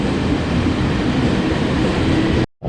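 Blue commuter train in Kaohsiung, heard from on board as a loud, continuous rumble of wheels and motors, steady throughout before cutting off abruptly near the end.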